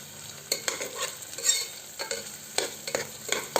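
Cashews frying in ghee in a pan for restaurant-style ghee rice, a steady soft sizzle broken by clinking spoon stirs and scrapes at irregular intervals, close and fairly quiet with no talking.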